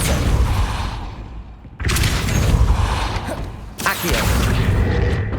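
Depulso spells cast in Hogwarts Legacy, heavy booming, rumbling bursts that repeat at intervals of about two seconds, loud and close with mechanical creaks between them.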